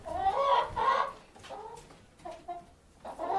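Several chickens cluck in short bursts, a few close by, with gaps between the calls.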